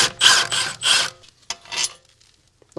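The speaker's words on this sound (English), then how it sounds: "Now I'll just break some of this corrosion free." Corrosion being broken free on a car suspension pinch bolt, heard as several harsh, close scraping rasps in quick bursts, then a few shorter scrapes and a sharp knock before quiet.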